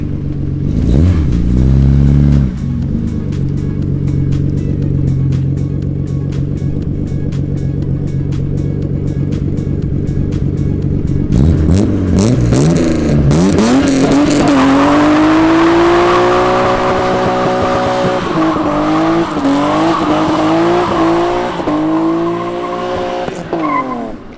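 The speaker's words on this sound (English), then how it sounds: "Definitely both wheels locking up." BMW E36 325i with a limited-slip differential locking both rear wheels, first a steady engine note, then loud, sustained tire squeal rising and wavering for many seconds, close by, with no speech.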